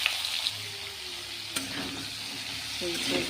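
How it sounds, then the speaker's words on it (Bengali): Nigella seeds sizzle and crackle in hot oil for a tempering in a home kitchen, a steady close frying hiss with a few sharp pops and some stirring. "তেলের মধ্যে আমি কালি জিরা ফোড়ন দিয়ে দিছি"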